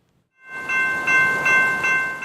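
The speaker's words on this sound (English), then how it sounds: "trains carrying the highly flammable Bakken crude oil passes through downtown Seattle" A freight train hauling highly flammable Bakken crude oil rolls through downtown Seattle, its loud steady rumble rising quickly out of silence with a sustained horn tone over the top and no voices.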